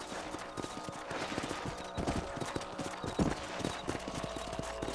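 Horse hooves clip-clop steadily while riding across a ranch property in Red Dead Redemption on PS5, a close, rhythmic stream of hoofbeats over low game ambience, with no talking.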